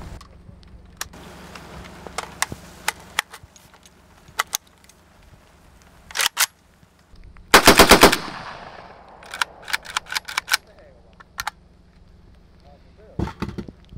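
AK-47 rifle firing through a 150-round continuous test after being soaked in water and sand: several loud bursts of automatic fire, one long dense burst near the middle, with scattered single shots and sharp clatter between them.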